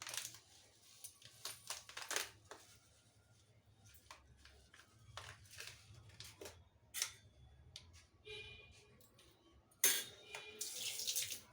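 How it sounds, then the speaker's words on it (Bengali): A small splash of water runs into a bowl holding about one and a half teaspoons of paneer-curdling powder while homemade paneer is made from powdered milk, giving an intermittent, fairly close trickle with short gaps and a brighter burst near the end. "এতে আমি একটু জল দিয়ে নেব।"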